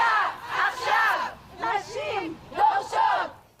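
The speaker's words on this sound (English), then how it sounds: "Crowds of women took to the streets in Tel Aviv today, calling for a pause in the fighting and the release of hostages" A crowd of women protests in the streets of Tel Aviv, calling for a pause in the fighting and the release of hostages, with voices rising together in rhythmic waves of loud chanting and shouting.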